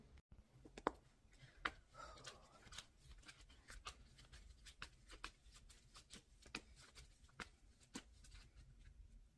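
Oracle cards are shuffled by hand up close, a rapid series of soft papery riffles and taps repeating at an irregular, quick pace, quiet and alone.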